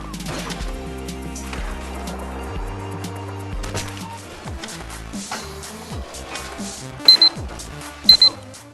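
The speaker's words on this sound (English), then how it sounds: "You heard the alarm go off." Two short bright electronic alarm beeps ring out near the end, an alarm clock going off after an hour, cutting loudly over steady game music and sound effects.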